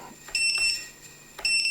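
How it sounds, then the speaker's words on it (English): A HolyBro Kopis 1 race drone gives high-pitched beeps when armed, in two short bursts separated by a brief pause, close and clear. "So we're having some beeps"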